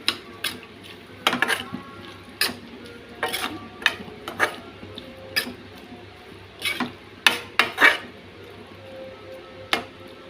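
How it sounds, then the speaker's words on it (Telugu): A brinjal fry is stirred in a pan after salt goes in: a spoon gives irregular sharp clicks and scrapes against the pan over a faint background hiss, with no talking. "ఉప్పు వేసి మళ్ళీ కలుపుకుందామండి"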